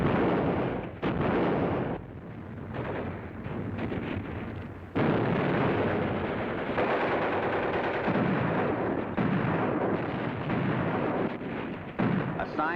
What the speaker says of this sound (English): The veteran German troops bar the way with a crossfire of mortar and machine gun fire.